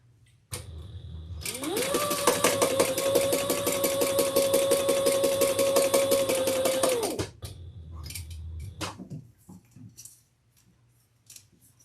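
A sewing machine stitches a crossbody handbag in one steady, loud run of fast rhythmic clatter lasting about six seconds, starting abruptly and stopping cleanly, followed by a few faint handling clicks.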